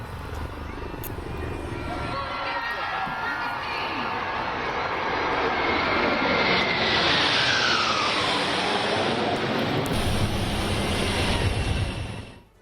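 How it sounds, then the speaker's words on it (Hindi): Surya Kiran aerobatic jets and Tejas performing at an air show, a loud roaring jet sweep building and passing overhead with a rising then falling whine, continuous until it cuts off. "एयर शो में सारंग, हेलीकॉप्टर और तेजस ने भी हिस्सा लिया।"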